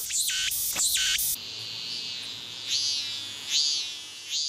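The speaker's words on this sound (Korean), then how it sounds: "녀석들이 우는 순간을 자세히 살펴보죠. 이 녀석은 애매미입니다." A Meimuna opalifera cicada sings loudly with pulsing, rasping bursts, then a softer drawn-out trill with rising swells repeating every second or so.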